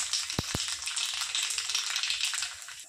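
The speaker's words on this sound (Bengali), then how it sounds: "তেল গরম হয়ে গেছে, ফোড়নে দিয়ে দেবো কালো জিরে" Nigella seeds crackle and sizzle in hot oil at the start of a fish chorchori, a dense, even frying hiss with two sharp taps early on, heard alone.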